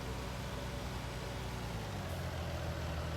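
Farm vehicle engine in Farming Simulator 19 running steadily at idle, a continuous low rumble heard alone at close range.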